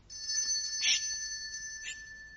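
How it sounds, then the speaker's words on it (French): A doorbell rings downstairs in a dramatized indoor scene: a sustained electric ringing tone, fairly faint, with two brighter bursts about a second apart. "Je crois qu'on a sonné en bas."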